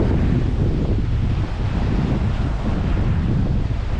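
Strong wind buffeting the microphone outdoors near the coast in Ibiza, a loud, continuous rumbling roar with surf-like wash, steady throughout and with no voices.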